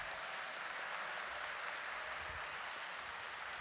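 A church congregation applauds at a Korean teacher appointment service, a steady distant wash of many hands clapping, soft and even throughout with no distinct individual claps.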